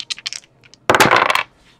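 Dice rolled for a random draw while breaking a 2017 Topps Triple Threads baseball card case, a short burst of hard rattling and clatter across a surface, close and loud, after a few faint taps.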